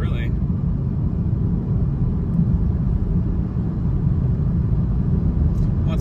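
A Camaro SS with a 10-speed transmission cruises in four-cylinder mode, heard from inside the cabin as a steady, low droning rumble that holds even throughout, with someone talking over it.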